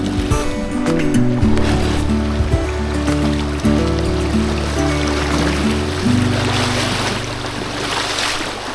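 Water of a wild trout creek rushes steadily while someone wades across with a dog, a close, full wash that swells louder toward the end.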